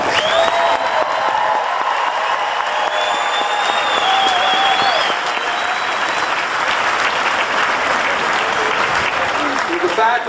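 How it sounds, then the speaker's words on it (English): A large audience applauds graduates at a graduation ceremony, steady dense clapping with some cheering and whistles filling the hall for about ten seconds. "Let's give all the graduates a big round of applause."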